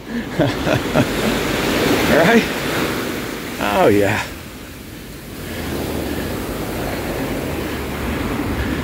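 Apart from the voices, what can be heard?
ocean waves on the shore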